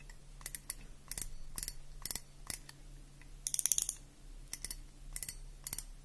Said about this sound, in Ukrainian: Відпустили. Фрикціон